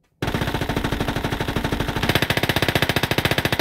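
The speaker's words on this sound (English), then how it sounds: "the dual 30 cal, let's just demonstrate" Twin .30 cal hull machine guns on a US light tank in Call to Arms - Gates of Hell fire in a steady, rapid burst that starts abruptly and keeps going loud and close, growing slightly sharper near the end.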